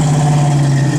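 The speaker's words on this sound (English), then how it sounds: "That car sounds good, man." A 1967 Chevrolet Camaro RS/SS engine running at a steady loud idle, with a strong, constant low hum and rumble and no change in pitch or speech over it.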